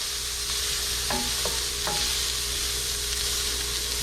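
Shrimp and peppers frying in a pan, a loud, continuous hiss of sizzling oil with a few brief scraping stirs near the middle, close up and without speech.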